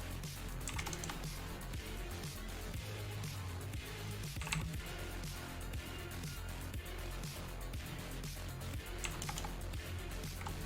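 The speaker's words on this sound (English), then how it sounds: "It's a mechanical keyboard." Continuous typing on an Eagle mechanical keyboard, with rapid, even key clacks close up throughout.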